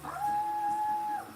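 A person imitates a coyote howl with one sustained, steady wailing tone lasting about a second, close and clear, with no other sound around it.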